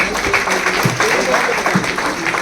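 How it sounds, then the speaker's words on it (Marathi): A crowd at a Guru Purnima gathering claps loudly for a teacher's nephew, dense continuous applause that stays close and full throughout, with occasional voices faintly mixed in. "सरांच्या पुतण्यासाठी एकदा जोरदार टाळ्या"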